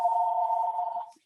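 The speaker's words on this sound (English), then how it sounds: "And of course, my phone's ringing." A phone rings during a National Academy of Medicine workshop call, giving one sustained electronic tone that holds steady and then cuts off, with no speech over it.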